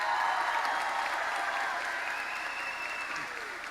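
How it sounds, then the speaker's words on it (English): A high school graduation crowd applauding the class of 2019, a full sustained round of clapping with some cheering that tapers slightly near the end. "Let's hear a big round of applause for them."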